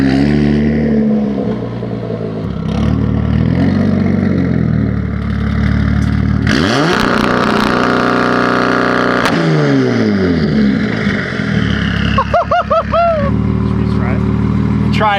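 A BMW M4 engine revs hard in launch-control mode, its pitch rising and falling through loud throaty sweeps, with a sharp rev spike near the middle, while people talk over it inside the car.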